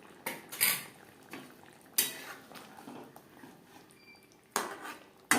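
Metal spoon clinks and scrapes against a pot as egg biryani is mixed with milk, attar, food colour and rose water, a handful of sharp knocks spaced across a quiet background.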